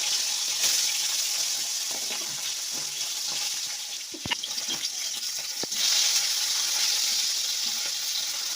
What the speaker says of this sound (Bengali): ভালো করে মাছগুলোকে ভেজে নেবো